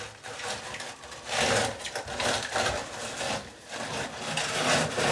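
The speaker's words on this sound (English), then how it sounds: "The lower moss is all one piece. Roll it up." A heavy, wet mat of filter moss from a pond cleanout is rolled up, giving continuous rough rubbing and squelching scrapes in uneven surges, close by.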